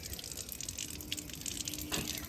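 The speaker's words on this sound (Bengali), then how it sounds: "এই যে খাচ্ছে জল মনের সুখে।" A pet laps up water eagerly, a steady wet splashing and trickling close by, continuous and fairly faint with a brief gush near the end, no voices.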